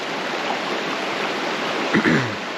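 Sevenmile Creek flows steadily along its shore near Lake Superior's Pictured Rocks, a close, even wash of running water with a brief low knock near the end.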